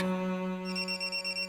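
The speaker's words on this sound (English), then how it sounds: "My phone rang." A telephone rings with steady tonal electronic ringing that switches pitch partway through, pulsing in a regular rhythm, fairly close and alone with no voices.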